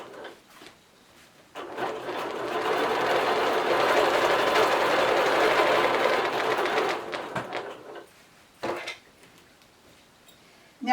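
A quilting sewing machine runs steadily for about five seconds, lock stitching a back-and-forth wavy pattern across a quilt, its rapid needle hum loud and continuous before stopping, followed by a couple of brief handling noises.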